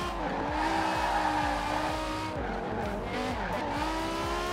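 A muscle car's engine revs hard in Forza Horizon 4, rising and dropping through quick gear shifts, close and loud, with tire squeal joining in near the end.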